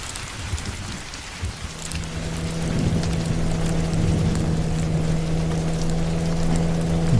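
Heavy night rain in a Bengali horror cartoon, a steady loud downpour that thickens after a few seconds, with a low engine-like hum underneath and no talk.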